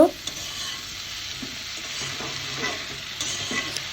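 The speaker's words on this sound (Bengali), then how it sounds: "এখন আমি সুন্দর করে মশলার সাথে কিন্তু কচুর লতিগুলা কষিয়ে নিব" Kochur loti (taro stolons) fry with spices in a pan, sizzling steadily while a spoon scrapes and stirs them in repeated strokes, close and clear with no talking.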